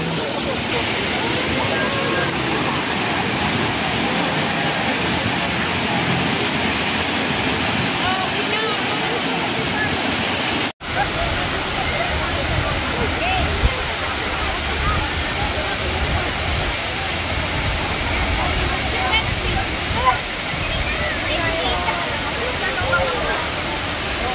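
A waterfall at Hinulugang Taktak roars steadily and loudly throughout, a dense continuous rush of water with a brief cut near the middle.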